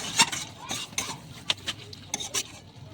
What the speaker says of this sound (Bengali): 1/2 চামচ গরম মশলা দিয়ে আমি ভালো করে মিশিয়ে নিচ্ছি